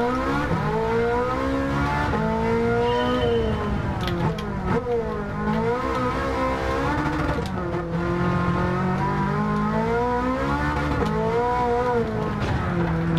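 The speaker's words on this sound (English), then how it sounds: "a race car engine" A race car engine in a racing video game screams through rising and falling revs, its harmonic whine climbing and dropping with gear changes, loud and close with faint tire squeal mixed in.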